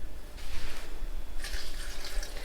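Cold water is poured in while making a sweet mix with chia and flax seeds, producing a close, splashing rush that surges in two bursts with a brief lull between, no talk over it.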